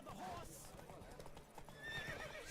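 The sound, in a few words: horse galloping and neighing in a race, video game The Witcher 3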